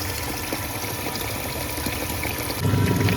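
Water fills a washing machine for a third rinse of clothes, a steady rushing flow that swells louder near the end, with no one speaking.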